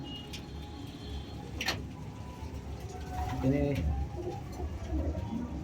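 Pigeons in a breeding loft give low, soft cooing calls in short bursts, near and fairly quiet, under a voice and a steady background hum.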